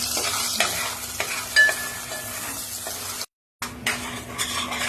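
Homemade ground ghati masala fries in hot oil for a Sunday mutton dish, a close, busy crackling sizzle broken by spoon scrapes against the pan and one brief gap of silence.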